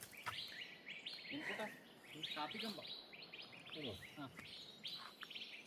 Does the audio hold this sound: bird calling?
yes